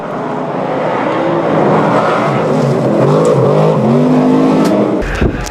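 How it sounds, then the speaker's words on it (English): A racing truck with a new V8 engine tears across the desert, its loud, close engine revving and climbing in pitch continuously, then cutting to a sharp change of sound near the end. "the horsepower now that we've got the new V8 engine in the truck is extremely quick and agile across the desert"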